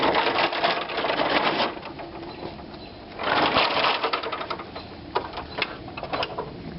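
A power drill bores a hole and drives a screw into a sliding pole mount for an American Kestrel nestbox, buzzing in two rattling bursts with intermittent lighter whirring and clicks in between.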